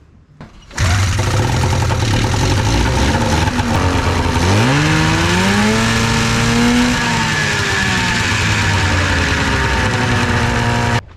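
An Arctic Cat snowmobile, bought for $300, cranks and catches near the start, then runs loudly and steadily, with its engine pitch climbing and falling in a rev midway before settling back into a strong idle.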